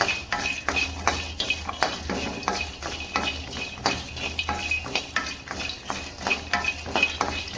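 Garlic cloves roasting dry in a pan while a spoon stirs them, making steady rhythmic scraping and clinking strokes close by, with no talking.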